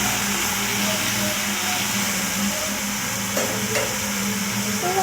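Bitter gourd curry stirred in a pan, a steady sizzling hiss with faint scraping and a couple of soft taps, continuous and close with no talk.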